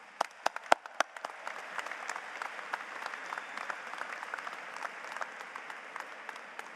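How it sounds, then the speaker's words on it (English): Steady applause from a commencement audience at a college arts and sciences graduation ceremony, a dense wash of many hands clapping with a few sharp nearby claps standing out, sustained and even throughout. "That deserves an applause."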